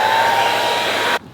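Hair dryer running steadily at close range, heating the adhesive on a Mustang GT's rear spoiler during removal, a continuous whooshing whine with a faint tone that cuts off abruptly near the end.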